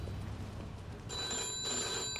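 A telephone rings in the Mafia 2 video game, a steady electronic bell tone beginning about halfway through and holding over a low room hum, fairly quiet and alone.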